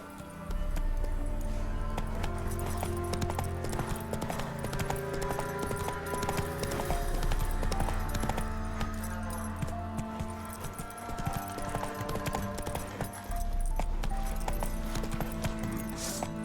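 The horse Roach walks in The Witcher 3, its hooves clip-clopping steadily through a dense, continuous game soundscape of music and ambience, with footfalls blended into the mix at moderate level.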